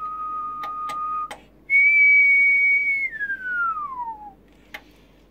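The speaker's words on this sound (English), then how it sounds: "I'm whistling at about 1 kilohertz." A clear human whistle at about 1 kilohertz holds a steady tone, then slides smoothly downward, framed by a few sharp clicks; no talking.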